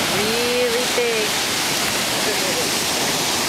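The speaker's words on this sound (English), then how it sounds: "The waves really big." Big ocean waves roll onto a beach as a steady, loud wash of broadband surf, with faint children's voices carrying briefly over the continuous roar.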